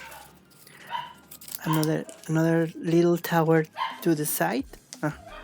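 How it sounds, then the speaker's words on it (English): Pet dogs barking indoors: several sharp, loud barks and yips come in a quick irregular burst, close to the microphone, with a person talking briefly nearby. "Sorry for my dogs, they are barking."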